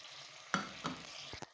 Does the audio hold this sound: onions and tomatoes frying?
yes